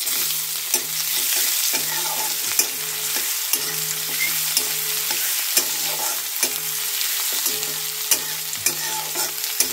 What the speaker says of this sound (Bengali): পেঁয়াজটাকে ভালোভাবে ভাজতে হবে।